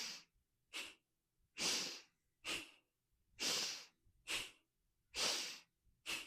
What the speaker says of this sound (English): So we inhale, exhale, inhale, exhale.